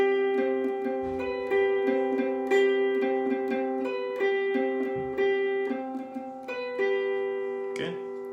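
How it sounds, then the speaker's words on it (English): Clean electric guitar playing a simple root, fifth and major-seventh arpeggio in an 80s style, bright ringing notes picked in a steady repeating pattern, fairly clear and alone. "And he plays a simple arpeggio which sounds a bit like this."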